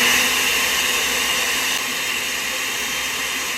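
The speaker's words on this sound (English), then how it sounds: "We're going to give that a ride in the blender for about 30 or 40 seconds." A kitchen blender whirs steadily as it purées a vegan cheese sauce made with salt and tapioca starch. The loud, continuous motor roar runs for the whole stretch with no voices.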